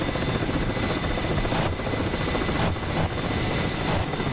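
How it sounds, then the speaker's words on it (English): A Mi-8 helicopter flying low in a combat flight game, its dense rotor and engine roar filling the scene continuously at close range, loud and unbroken, with no talking. "Wallaby coming in with the MI-8 down low."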